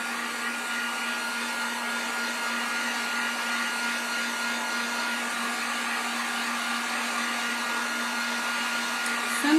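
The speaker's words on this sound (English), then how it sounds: "Let me just quickly heat gun" A heat gun blowing hot air to dry acrylic paint on a wooden sign, a steady, even whir with a constant motor tone running unbroken throughout, moderately loud and alone.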